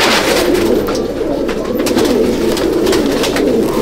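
Male Madrasi pigeons coo in a loft, a steady low murmuring coo that continues throughout amid dense, close background noise.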